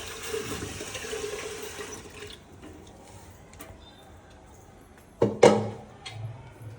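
Tap water gushes for a couple of seconds, then stops; a quiet pause follows before a sharp splash and clatter near the end.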